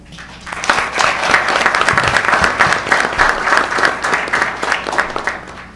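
Audience at a county school board meeting applauds students, clapping rising quickly to a full, steady round that fills the room before tapering slightly at the end.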